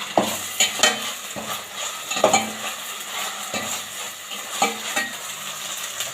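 Ginger garlic paste with mint and coriander sautéed in a hot pan for chicken curry: a continuous sizzle with repeated scraping spoon strokes at a loose, regular rhythm, close and fairly loud.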